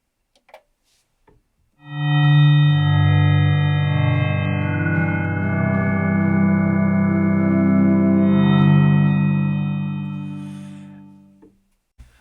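Waldorf Iridium synthesizer resonator engine with effects layered on, a single sustained chord with rich harmonics swelling in and holding for about ten seconds before fading out, heard alone.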